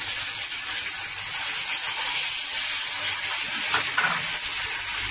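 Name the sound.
chili poppy seed paste added to fried onions, sizzling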